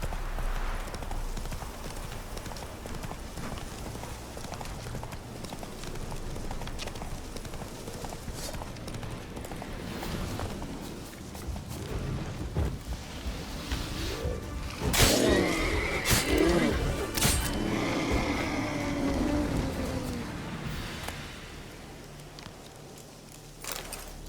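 Horse hooves clip-clopping at a steady gallop in the Witcher 3 video game, with neighs and whinnies breaking through around the middle, loud and close throughout with brief spoken urging.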